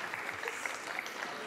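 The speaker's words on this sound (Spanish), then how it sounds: "Fuerte el aplauso para este batallón." A crowd claps briefly at a beatbox battle during the round of sixteen of a 2023 contest; the applause is soft and distant, a dense steady patter with no voices on top.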